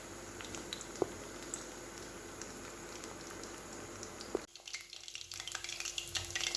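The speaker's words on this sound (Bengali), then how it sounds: "ভেজে তুলি, তারপর দেবো।" Chicken pakoras frying in a pan with a steady bubbling sizzle that drops back sharply partway through, then a quieter crackle with a faint tone, no voices.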